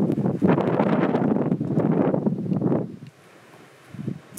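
Strong wind gusting across open mountain ground in the Cairngorms, a loud, steady roar buffeting the microphone for about three seconds before dropping to a quieter lull and picking up again briefly at the end.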